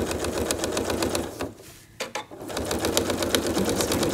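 Sewing machine stitching a spiral on a quilt runs in a fast, even rattle of needle strokes, pausing briefly in the middle before resuming at the same close, steady pace.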